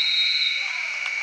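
A buzzer at a high school basketball game sounds as a last-second shot goes up, a steady loud electronic tone lasting over a second amid arena noise.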